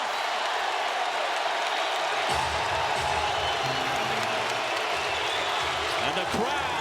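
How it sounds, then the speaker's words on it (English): Basketball crowd roars inside Paycom Center during an NBA game between the Thunder and the Spurs, a dense and continuous din of cheering and applause that swells in the second half, with commentary voices mixed in. "And the crowd alive and well here inside Paycom Center"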